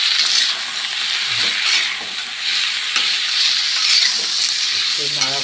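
Food frying in a pan with turmeric powder being stirred in, giving a steady close sizzle with occasional scraping stirs throughout.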